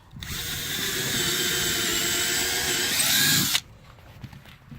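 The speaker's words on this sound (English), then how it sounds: "I'm going to drill one hole to start off with here" A power drill bores a hole in a Bennington SX21 pontoon boat while a diving board is fitted, a high steady whine lasting about three seconds before cutting off sharply.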